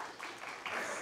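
Congregation applauding inside a church during a deacon ordination service, steady crowd clapping that swells louder near the end of the short burst.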